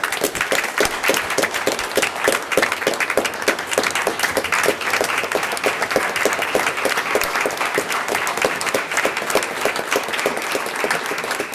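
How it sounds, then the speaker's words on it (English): A roomful of people at a commissioners' meeting clap in a steady, dense round of applause, loud and sustained for about eleven seconds. "Give a round of applause."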